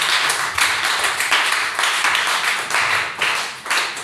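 Church congregation clapping for Jesus in a steady, rhythmic pattern, loud and close, with many hands striking together in repeated bursts and no voices over them.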